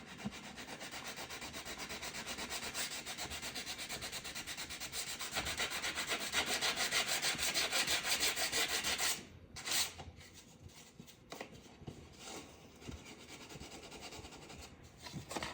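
Hand sanding of a latex-painted wooden window frame being repaired: a steady, close abrasive rubbing that grows louder, then breaks into shorter, uneven strokes.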